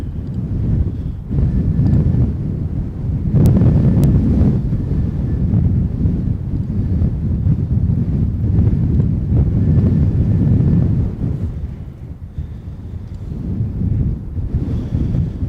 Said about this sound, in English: it is full on 20 knots of breeze now